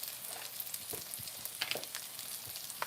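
King trumpet mushrooms fry in butter in a pan, with a quiet, continuous sizzle and scattered soft crackles and pops throughout.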